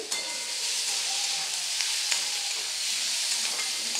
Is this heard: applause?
no